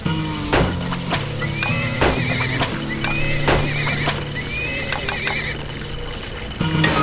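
Horses neigh and whinny in the Turmoil video game, several loud shrill calls rising over a steady low engine-like hum, with sharp clip-clop knocks scattered throughout.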